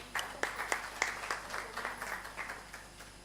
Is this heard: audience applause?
yes